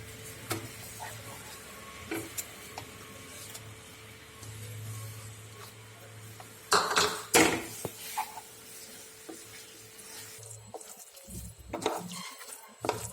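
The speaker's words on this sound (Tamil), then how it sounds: "இது இப்போ வந்து நல்லா நம்ம அல்வா பதத்துக்கு கிண்டிக்கிட்டு இருக்கோம்" Amla (gooseberry) paste is stirred into a thick halwa in a pan, with quiet intermittent scraping and a faint low sizzle, plus a couple of louder scrapes midway.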